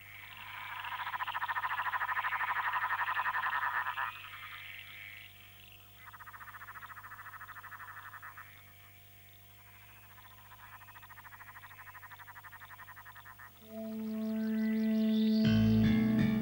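Frogs croaking in the swamps and lagoons of Jervis Bay, a dense rhythmic chorus of rapid pulsing calls that swells and fades, with a louder, nearer croak near the end.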